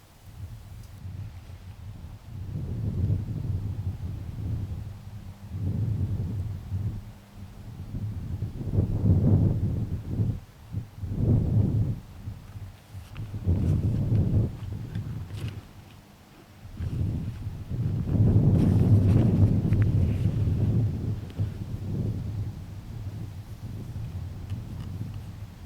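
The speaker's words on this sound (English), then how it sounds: "As you can hear, it was a bit breezy that night." Wind gusts buffet the microphone on a breezy night during rabbit hunting, surging and easing in uneven low rushes over about twenty-five seconds with faint rustling, no voices.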